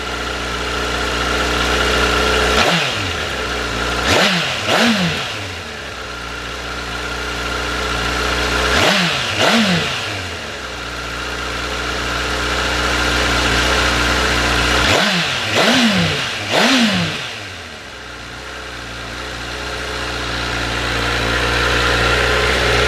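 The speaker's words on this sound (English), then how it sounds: "we will just give the throttle a quick flip, just to give you an idea of how she sounds" A Honda CBR1000RR sport motorcycle idles steadily on a chilly morning, with three pairs of sharp throttle blips rising and falling close by, and no one speaking.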